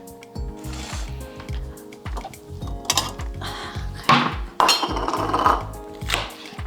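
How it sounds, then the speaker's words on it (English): A knife chops spring onion on a cutting board while a Korean hotpot is prepared, giving a run of quick, close, evenly spaced taps with some clinks of dishes and utensils and a few louder knocks toward the end. "So let's cut our spring onion."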